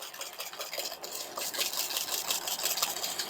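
Electric mixer whirring at high speed as it whisks egg whites for ladyfinger sponge batter, a steady buzzing hum with rattling beater texture, close and continuous, no voices.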